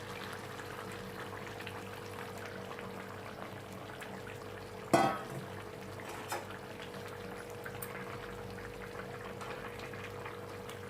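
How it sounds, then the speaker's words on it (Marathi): Hot water is poured into a pan of simmering spinach chicken curry in a home kitchen, a quiet, steady trickle with one brief clatter partway through. "त्यामध्ये मी गरम केलेलं पाणी घालते थोडंसं"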